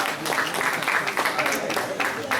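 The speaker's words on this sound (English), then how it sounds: "So, round of applause for him." Audience applause at a book chat event organised by a university creative writers club, a dense, continuous patter of clapping from a room of guests, with some voices mixed in.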